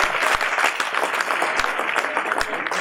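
Audience applause at an inter-school quiz contest grand finale, vigorous dense clapping from a large crowd with occasional sharp individual claps and thumps, loud and unbroken throughout.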